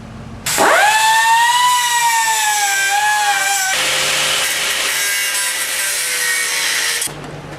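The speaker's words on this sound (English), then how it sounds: "I'm going to see if I can grind all these rivets out of there and get this thing apart here today" Power grinder cutting rivets out of an Allis Chalmers 310 tractor during restoration, a loud close whine that winds up, bears down into a shifting grinding tone, then cuts off after about seven seconds.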